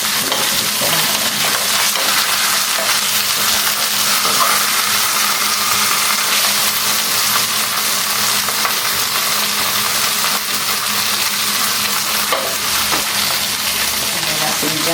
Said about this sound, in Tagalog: I-brown-brown nyo lang, guys. Nilagyan ko siya ng olive oil on the other side.